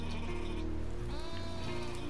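Sheep bleating in a farming video game, a few wavering calls over a steady background of rain and game ambience, with no talk over them.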